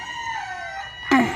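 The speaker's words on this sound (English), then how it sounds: "So for Nick's coop, that's what I'm going to kind of do this morning, and just talk to the chickens." A rooster crowing in a chicken coop, one loud nearby call rising sharply at the end after a droning background tone.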